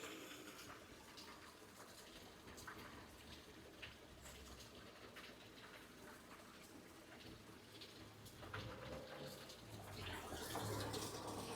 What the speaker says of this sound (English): Lots and lots of water coming through the undercliff at the moment.